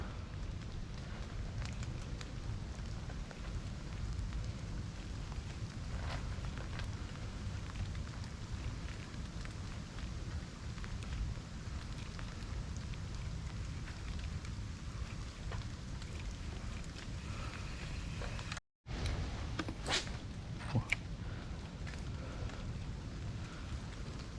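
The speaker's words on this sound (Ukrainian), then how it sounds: "Дощ іде" Steady rain falling during a river fishing trip, a dense continuous hiss close around with no voices, broken by one brief dropout near the end.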